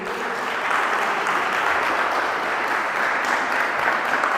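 A church congregation claps for Jesus Christ during a sermon, producing a sustained, even wash of applause from many hands that holds steady at moderate loudness throughout.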